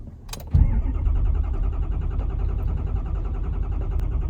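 An RV engine cranks briefly after its fuel pump is primed and catches, then settles into a steady rumbling idle close by.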